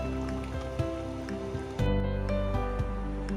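A mutton leg roast sizzles over a high flame as its water cooks off, giving a dense crackling and spattering close by that grows louder partway through, with no talking.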